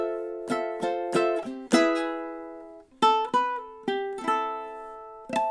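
Ukulele plays the closing bars of a song, with bright strummed chords ringing and decaying, a few quick strums followed by sustained chords, then a second phrase; close and clear, with no voice.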